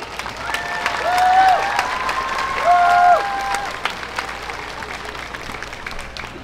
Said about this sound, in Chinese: 也请大家呢再一次的拿出你热情的掌声跟尖叫声来欣赏